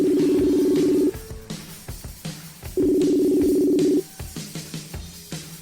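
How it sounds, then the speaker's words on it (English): An outgoing telephone call rings through during a podcast recording: two long, loud, steady ring tones, each about a second long, are separated by a pause and heard alone with no voices. "let's just hope that Tim is going to answer the phone right now"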